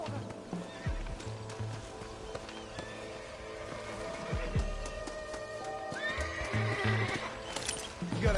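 A horse in Red Dead Redemption neighs and whinnies while its hooves clop along at a gallop. The neighs come in several loud bursts over low rumbling ambience.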